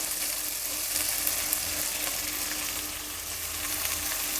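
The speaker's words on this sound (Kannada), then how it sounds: "ಅವರೆಕಾಳನ್ನ ಚೆನ್ನಾಗಿ ಎಣ್ಣೆಯಲ್ಲಿ ಫ್ರೈ ಮಾಡಿದ್ರೆ ಒಳ್ಳೆ ರುಚಿ ರುಚಿಯಾಗುತ್ತೆ" Field beans (avarekalu) frying in oil for an old-style khichdi, a dense, even sizzle that holds steady throughout, close and uninterrupted.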